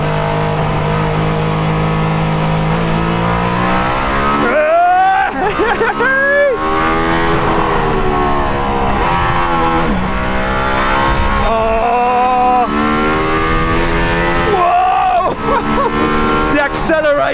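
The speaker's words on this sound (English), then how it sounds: "Acceleration out of the turns is just so good." Mercedes-AMG ONE hypercar accelerating hard out of turns on a track, its engine rising in pitch with repeated rapid upshifts, loud and close, with a voice talking over it.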